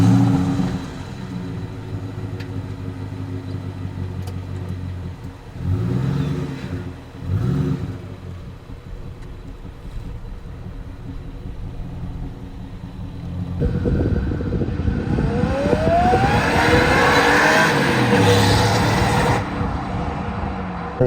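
Stock 2003 Ford Mustang SVT Cobra Terminator V8 heard from a moving car: a low, steady engine rumble with a couple of brief swells, then a louder, rising acceleration roar that holds for the final seconds.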